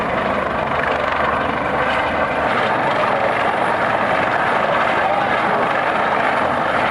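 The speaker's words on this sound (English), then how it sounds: "Coast Guard helicopter rescue in the middle of the ocean from Carnival Sensation ship" A Coast Guard helicopter hovers over open ocean during a medical rescue from the Carnival Sensation cruise ship, its rotors and engine giving a loud, constant, close drone that runs unbroken throughout.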